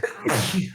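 One short, close sneeze bursts out sharply and ends quickly.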